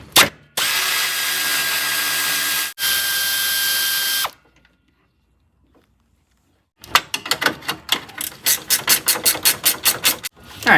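Power tool spinning out a 10 mm bolt from the center brace of a 2006 Toyota Corolla during A/C work, two loud whirring bursts, a silent pause, then a run of quick rhythmic ratcheting clicks, close and with no speech.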